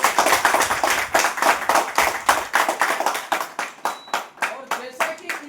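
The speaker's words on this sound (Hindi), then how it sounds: "सब एक बार जोरदार तालियों से स्वागत करें" Hands clapping in welcome at a party headquarters in Delhi for a farmers' union president, a brisk, fairly close burst of individual claps with a loose rhythm that gradually thins toward the end.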